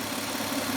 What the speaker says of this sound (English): I can do this while the engine is running